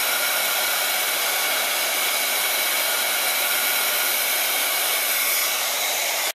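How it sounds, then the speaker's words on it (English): A heat tool heat-sets clear embossing powder on a stamped paper butterfly for a Stampin' Up! craft, giving a steady, loud blowing whoosh that continues unbroken and then cuts off abruptly at the very end. "we're going to heat set that and it'll be clear"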